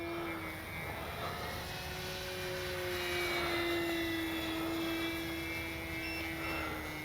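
An E-flite Sportix RC airplane, a 1.1 m sport model, drones overhead in a steady, fairly faint electric motor whine that shifts slightly in pitch as it passes, with no wind.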